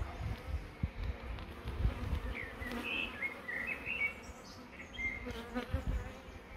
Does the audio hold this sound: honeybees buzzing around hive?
yes